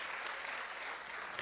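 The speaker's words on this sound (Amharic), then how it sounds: "የዳናችሁ ሰዎች አጨብጭቡ ለሰራዊት ጌታ ለእግዚአብሔር።" Church congregation applauding, a brief steady patter of many hands clapping heard faint and distant.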